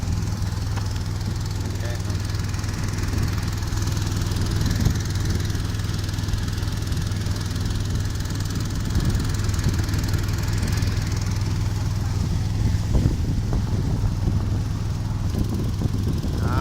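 A boat engine runs steadily on a river during a boat trip, a constant low mechanical drone heard close and loud throughout, with faint voices in the background.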